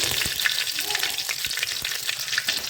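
Mustard seeds and curry leaves fry in hot oil with a dense, continuous close crackle and sizzle and rapid spattering pops throughout, without any voices.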